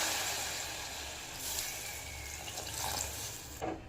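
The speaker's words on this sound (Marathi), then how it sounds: "आता टाकायचं पाणी पाहिजे तेवढं आपल्याला." Water pours steadily into a pot of cooking eggplant curry with a continuous splashing rush, its tone shifting slightly as it fills; no one speaks.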